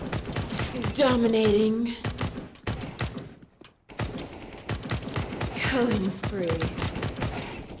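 AK rifle fire in a shooter video game, rapid bursts of sharp, close gunshots that come in quick strings with a brief pause midway, under in-game announcer voices calling out kill streaks.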